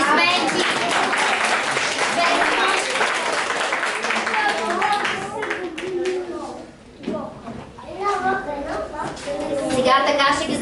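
A children's group audience applauds, a dense patter of clapping that carries on for several seconds, then thins and rises again while children and an adult talk over it.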